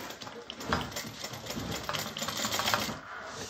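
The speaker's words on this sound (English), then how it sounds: "I'm sewing at 1/4 of an inch seam allowance here." A sewing machine fitted with a piping foot stitching a quarter-inch seam, a soft, continuous rapid rattle at moderate distance with no talking.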